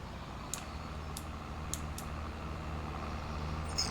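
Tractor in Farming Simulator 25 drives along with a steady low engine drone, a few sharp clicks and rattles punctuating the constant hum.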